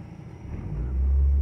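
A car drives on a test track after brake maintenance, its engine rumbling low and building steadily to a heavier, louder drone as it pulls away.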